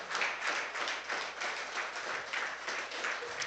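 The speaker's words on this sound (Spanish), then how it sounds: "Denle un aplauso al Señor" A church congregation claps in praise to the Lord, a dense, steady patter of many hands with rhythmic swells, fairly faint and alone without talk.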